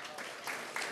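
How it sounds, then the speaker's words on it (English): A school assembly audience claps in a brief, dense burst of applause that swells slightly toward the end, with voices mixed in. "Give another round of applause for them"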